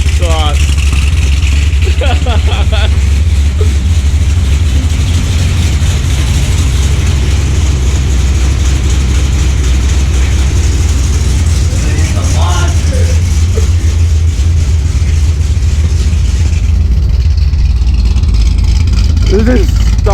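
Deep, loud idle rumble of a Chevrolet C6 Corvette Z06 V8 with new heads, cam and intake and stock mufflers, running steadily close up while people talk over it.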